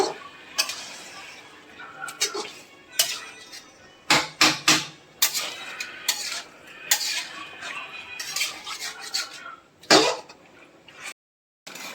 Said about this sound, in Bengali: এবার একটু মাংসটা নেড়ে নেব।